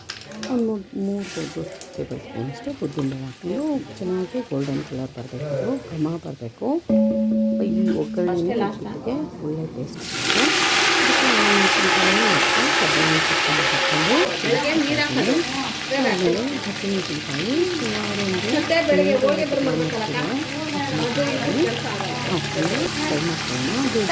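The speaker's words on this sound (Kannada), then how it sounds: "ಚೆನ್ನಾಗಿ ಸಿಡಿಬೇಕು ಸಾಸಿವೆ" Mustard seeds crackle and splutter in hot oil in a large pot for vegetable upma, a busy sizzling underneath steady talking that grows louder partway through.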